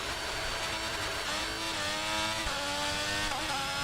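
A Formula 1 race car engine in the F1 22 video game at the Austria round revs hard and continuously, a loud, high, buzzing whine that rises and dips with gear changes, with no talk.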